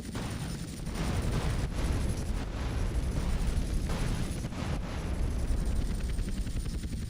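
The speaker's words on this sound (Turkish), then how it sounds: "Her tarafına vurdu roket." Rocket explosions in GTA San Andreas during a helicopter and plane training mission, heavy low booming blasts rolling continuously for several seconds with dense rumbling, no talk.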